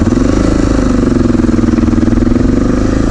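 An overheating motorcycle's engine runs nearby with a steady, loud, even throbbing idle that holds without a break for about three seconds.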